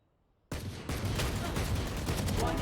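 Sudden burst of rapid automatic gunfire in the video game Valorant, dense and sustained after a silent start, loud and close with no voices.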